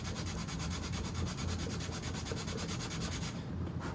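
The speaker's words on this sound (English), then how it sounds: "What you can also do is grab a piece of sandpaper, put it on the flat" A hand-carved wooden spoon is rubbed over sandpaper laid on a flat surface, making a fast, steady rhythmic scratching that is close and continuous and stops near the end, with no talking.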